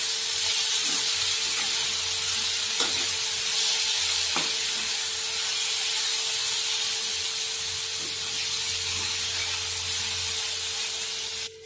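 Cooked rice stir-fried in a hot pan for masale bhat, a continuous loud hissing sizzle with occasional scraping clicks from the spatula and a faint steady hum underneath.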